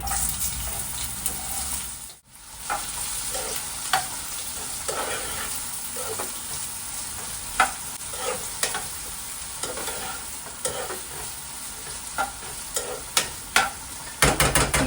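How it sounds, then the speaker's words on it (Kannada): Onions frying in hot oil sizzle steadily for a soya manchurian, a dense continuous hiss punctuated by sharp stirring clicks and scrapes, close and unbroken by voices. "ಸೊ ಗೈಸ್ ಇವಾಗ ಎಣ್ಣೆ ಕಾದಿದೆ, ಇದಕ್ಕೆ ಈರುಳ್ಳಿ"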